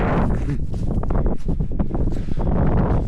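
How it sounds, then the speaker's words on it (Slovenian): Gusty wind blows across an exposed mountain near 2366 m, buffeting the microphone with loud, rumbling, uneven roaring through the whole stretch. "Pa tudi veter je začel ful bolj pihat."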